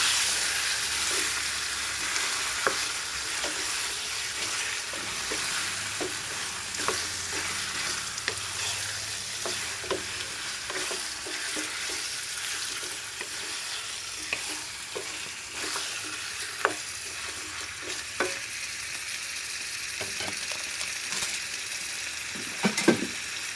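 Chicken curry, Kapampangan style, sizzles and fries steadily in a pan while a utensil stirs and scrapes it with scattered clicks, close and continuous with no talking.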